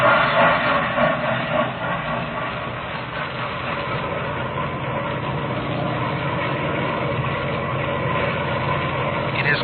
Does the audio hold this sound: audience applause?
no